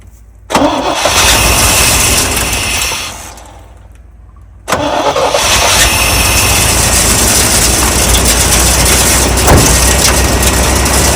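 Engine of a 1987 Chevy K5 Blazer, left sitting for 22 years, cranks for a few seconds, pauses briefly, then catches and runs steadily at a loud, close idle with no talking.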